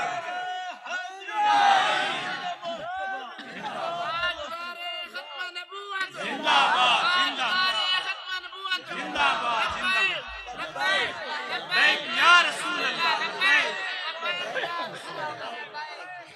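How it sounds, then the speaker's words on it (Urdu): A crowd at a religious gathering chants the Labbaik slogan, loud massed voices rising and falling in repeated surges throughout, with shouted calls over a constant background of crowd noise. "یہ نعرہ لبیک والا جڑا نا یہ ذرا زور نال لایا کر"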